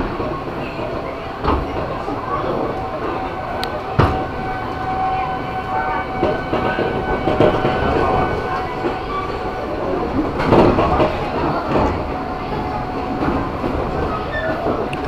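KRL Commuter Line electric train pulling into platform 3 at Bogor station, a steady rumble of wheels and motors with occasional rail clatter and knocks, heard close and continuous throughout.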